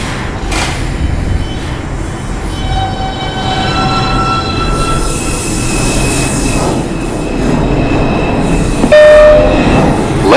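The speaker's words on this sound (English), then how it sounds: "This is a New Lots Avenue bound 2 train." An R142A subway train at Atlantic Avenue–Barclays Center station, New York, rumbles steadily and loudly throughout, with whining motor tones, rail noise and a brief sharper burst near the end.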